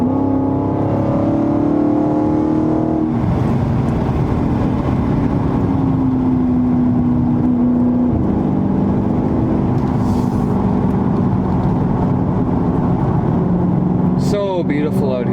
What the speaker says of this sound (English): Back window so you guys can hear at least a little bit of the engine.